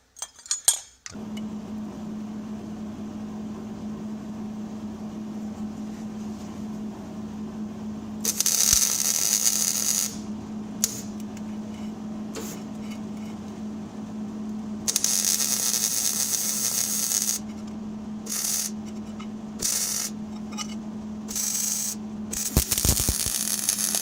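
Freshly welded steel spring buckets for a Jeep Wrangler get their edges cleaned up with a power tool, a steady motor hum running throughout while bursts of harsh abrasive grinding come and go in several close, loud passes.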